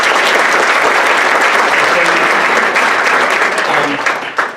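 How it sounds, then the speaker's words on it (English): Sustained audience applause at a fair housing training luncheon, loud and dense for the full stretch before thinning slightly at the very end. "Give a round of applause to"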